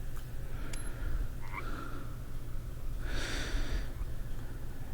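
A frog gives a couple of short croaks, one near the middle and a louder rasping call toward the end, over a low background rumble with no talking.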